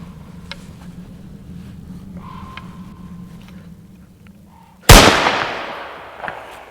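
A single loud rifle shot cracks out sharply near the five-second mark and echoes away, with a smaller report following about a second later, after a stretch of low rumbling background.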